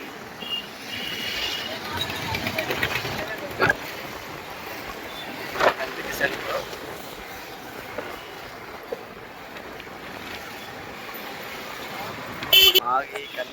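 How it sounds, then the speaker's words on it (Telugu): Heavy road traffic fills a busy town centre: a steady, fairly distant roar of engines with occasional horn toots and one sharper honk near the end, while people talk over it. "ఈ సెంటర్లో అయితే ఫుల్ ట్రాఫిక్ అయిపోతుందండి"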